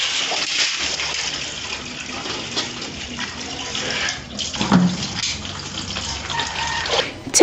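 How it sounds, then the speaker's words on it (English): Maize grain washed in clean water, a steady gushing and sloshing of water that runs for several seconds and swells in a few louder splashes, with no talking. "Wash in clean water and drain water."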